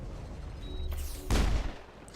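A single sharp burst of sci-fi gunfire amid crossfire in Mass Effect, a loud crack with a short rumbling tail over a low ambient hum.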